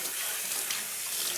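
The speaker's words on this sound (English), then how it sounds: "rinse it with water." Tap water pours steadily over a rusty metal pan, a close, even hiss of splashing water throughout, with no talking.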